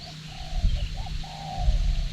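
A spotted dove coos softly in a short rhythmic phrase, somewhat distant, over low background rumble.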